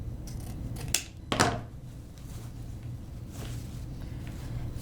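Scissors make an angle cut into material for a scarecrow hat, a couple of brisk snips close by, followed by quiet handling and faint background hum.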